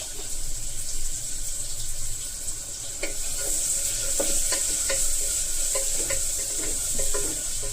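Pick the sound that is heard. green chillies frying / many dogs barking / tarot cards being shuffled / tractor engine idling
green chillies frying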